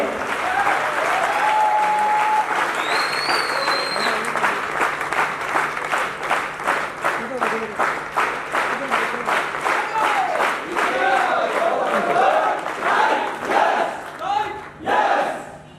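A crowd at a company award ceremony claps and cheers for a trophy presentation, starting as a dense wash with whistles and shouts and settling into loud rhythmic unison clapping that pulses steadily.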